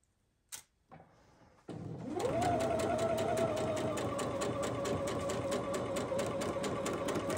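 A sewing machine stitches a neckline dart on a KENZO pattern. After a couple of clicks it whirs up to speed and runs at a steady, close, even pace with no talking.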